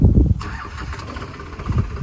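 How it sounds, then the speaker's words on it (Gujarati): Tractor engine cranking and catching into a rumbling idle nearby in a rural temple yard, short and outdoors with no talking. "પહેલાં કરીએ ટ્રેક્ટર ચાલુ અને આગળ જવા દઈએ બરાબર"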